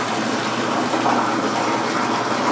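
Water gushes steadily into a jacuzzi bathtub at a vacation lodging, a constant close hissing rush with no breaks and no talking.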